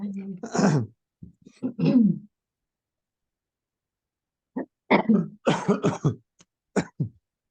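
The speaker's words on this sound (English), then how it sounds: "Sorry for my cough, but I have the same." A person coughs and clears their throat close to the microphone in two clusters of short, rough bursts separated by a few seconds of silence.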